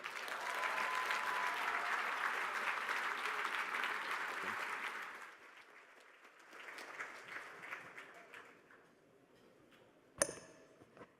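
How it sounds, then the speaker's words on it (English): An audience at a spring awards gala in New York claps and cheers steadily, then the applause thins into scattered claps and murmurs before a sharp knock near the end. "Please put your hands together and make a lot of noise"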